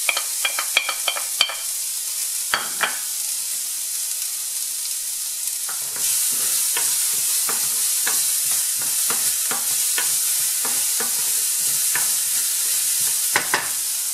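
Shallots being deglazed in a pan, first a few sharp clinks and scrapes, then a steady bright sizzle from about six seconds on, broken by repeated utensil taps and scrapes, close and fairly loud throughout.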